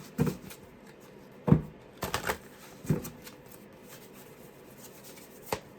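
Tarot cards being shuffled during a psychic reading, a few short riffling bursts separated by pauses, close and quiet, with no talking.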